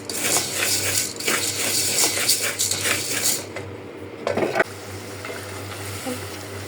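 Fish being stir-fried with spices in a pan over a gas stove, a steady close sizzle with repeated scraping and clinking of a utensil against the pan, briefly quieter near the end.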